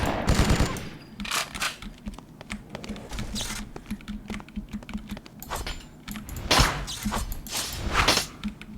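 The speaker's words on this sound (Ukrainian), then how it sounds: "Потужний кулемет. Так, так, так, сказав кулемет." A heavy machine gun fires in the BloodRayne video game: loud, rapid bursts of gunfire rattle in repeated volleys with short pauses between them, and no one speaks.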